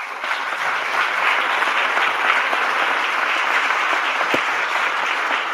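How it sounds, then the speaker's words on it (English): An audience at the NAACP New Jersey gubernatorial candidate debate breaks into sustained applause, a full, even roar of many hands clapping that holds steady throughout, with no talk over it. "Let's give them a round of applause."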